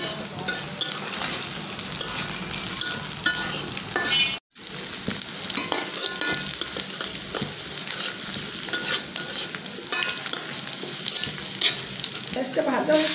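Ash gourd fries with onion and green chilli in a hot pan for an egg bhaji, giving a continuous crackling sizzle. Repeated stirring scrapes run through it, with one brief silent gap.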